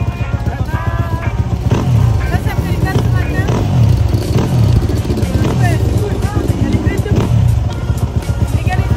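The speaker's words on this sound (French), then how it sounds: "ça c'est mon moteur et je sais pas si c'est une partie du terrain ou ma moto" Motocross motorcycle engine running on rough terrain, a loud buzzing engine note that rises and falls in repeated revving surges, with a voice talking over it and wind noise.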